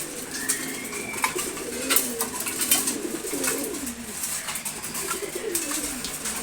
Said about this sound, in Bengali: এখানে দুইটা রেসারি মাদি কবুতর।